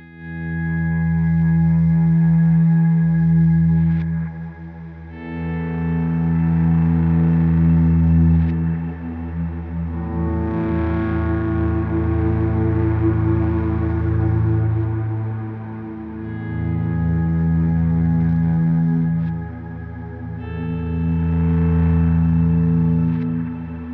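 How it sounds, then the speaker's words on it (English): Electric guitar volume swells played with the guitar's volume knob through a Line 6 POD HD500x with the overdrive pedal's drive turned up, sustained harmonically rich chords fading in and blooming with echo and chorus, loud, several slow overlapping swells. "Let's hear how some volume swells would sound just using my volume knob on my guitar."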